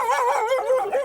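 A part-Alsatian dog howls and whines in a wavering, drawn-out cry, close and loud, filling a short moment with no talk.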